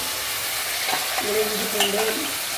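Chopped onions sauté in a pan for a Tamil mutton kolambu, giving a steady close sizzle with a few soft stirring scrapes and taps and no voices.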